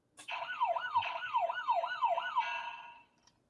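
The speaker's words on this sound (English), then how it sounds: "This time now I have Ash Ketchum yelling boom, boom, boom with the siren." A toy siren wails in a steady up-and-down sweep, about six even cycles over roughly three seconds, loud and close. It stops abruptly near the end, and no voice is audible.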